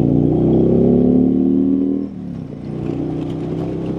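A Harley-Davidson Road Glide 3 motorcycle engine rumbling steadily while riding, a deep loud drone that dips briefly as if shifting gear, then settles back.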